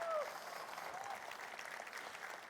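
A church audience applauds at a teaching on the Holy Spirit, a soft, distant wash of clapping that fades after a short voice at the start.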